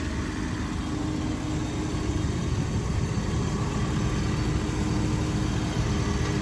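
A 6.0-liter LQ9 V8 in a 2003 Cadillac Escalade AWD with an aftermarket cold air intake, idling steadily with a low, even rumble, close by and constant throughout.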